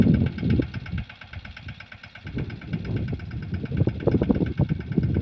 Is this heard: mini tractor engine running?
yes